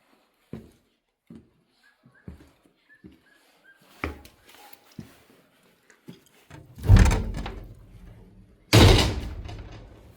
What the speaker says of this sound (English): Wow, heavy metal door.